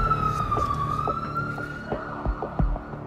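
A siren wails from a large ambulance as a steady, slowly sliding tone, with a low rumble and scattered street or traffic noise beneath it.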